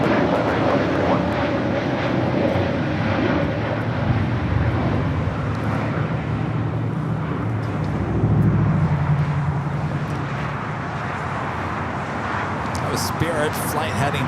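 Spirit Airlines Airbus A320neo jet airliner at LAX, a steady loud engine roar sustained throughout, swelling slightly midway, with wind buffeting and a voice talking over it.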